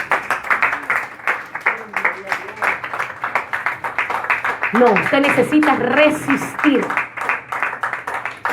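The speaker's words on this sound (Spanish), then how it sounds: "Dele un aplauso a Cristo." A church congregation claps in a series of quick bursts that rise and fade, heard alongside a preacher speaking in Spanish.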